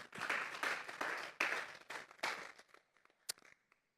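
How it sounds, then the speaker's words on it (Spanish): A church congregation at a Sunday service claps together in a dense, sustained round of applause that fades out after a few seconds, with a few scattered claps at the end. "Vamos a darle otra ofrenda de palmas a Dios en esta hora."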